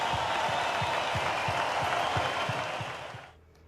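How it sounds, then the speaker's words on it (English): A studio audience on a sports talk show applauds in tribute to a late sideline reporter, a dense steady wash of clapping with faint rhythmic low thumps beneath, cutting off abruptly near the end. "I'd like all of you to join me in an applause for a great man and a life well lived"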